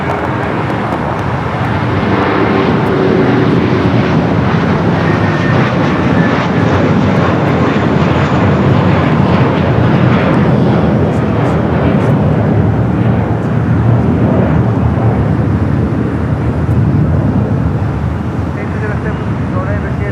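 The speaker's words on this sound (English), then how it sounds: "the 777 freighter, just touching down here on the south side" A Great Air Cargo Boeing 777 freighter touches down on the south side runway at Los Angeles LAX, a loud, steady broadband jet roar lasting throughout with no break, with faint talk in places.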